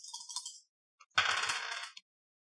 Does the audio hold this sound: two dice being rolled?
yes